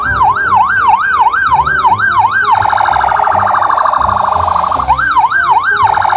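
A toy police car blares a loud electronic siren: a rapid, regular wailing warble that briefly shifts to a steadier tone before the warble returns, heard alone and up close.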